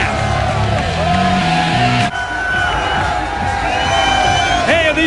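Stadium crowd at Pac Bell cheering during an XFL football game between the San Francisco Demons and Las Vegas Outlaws, a steady loud roar of voices with whoops throughout, engine-like drone and music underneath.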